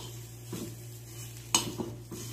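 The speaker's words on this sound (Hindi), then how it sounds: "इसको थोड़ा हलाते रहना क्योंकि जल न जाए।" Sanda lizard fat melting in a pan is stirred, with a few soft scrapes and a sharper clink of utensil against the pan over a faint steady sizzle and low background hum.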